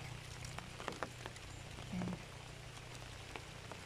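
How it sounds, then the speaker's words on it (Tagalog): Light rain patters steadily on a vegetable garden with cauliflower, Thai basil and sunflowers, a soft continuous hiss broken by a few faint, sparse drops, low and even throughout. "Umuulan na ngayon."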